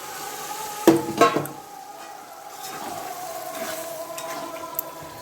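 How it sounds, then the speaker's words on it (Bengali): Small pieces of mutton are sautéed in a pan. Two quick utensil knocks come first, then a soft, steady sizzle and faint stirring continue quietly, close by, with no talking. "তো এখন ভালো করে কষিয়ে নিতে হবে মাংসটাকে"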